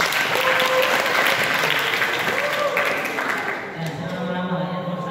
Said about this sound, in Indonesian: Aplaus lagi untuk kelompok kontra.